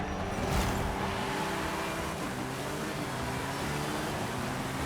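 A Porsche 911 GT3 R race car in Forza Horizon sets off at a race start, its engine a steady, loud drone with road noise that holds unbroken.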